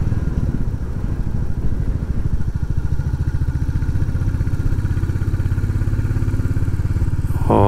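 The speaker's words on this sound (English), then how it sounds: "Oh, listen at that motor." A Royal Enfield Classic 350 motorcycle thumps steadily while riding through the Peak District, its low engine pulse loud and even throughout, with a brief clatter at the very end.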